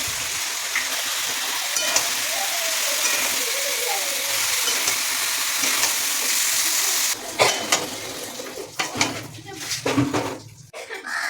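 Chicken pieces for chilli chicken sizzle and hiss steadily in a hot pan, then a louder burst of crackling and stirring clatter follows as the meat goes in.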